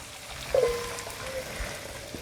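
Eggs hit a hot frying pan where tomatoes have been browning for scrambled eggs with tomato, bursting into a sudden loud sizzle that settles into a steady crackling fry.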